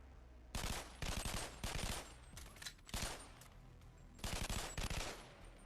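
Bursts of rapid pistol fire in the VR video game BoneLab, several quick volleys of close, sharp shots separated by short pauses, loud against a quiet background.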